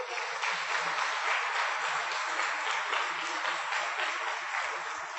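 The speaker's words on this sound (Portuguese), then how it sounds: "Forte aplauso ao Senhor." A church congregation applauding the Lord, a steady, fairly distant wash of clapping that holds evenly from start to finish with no voices standing out.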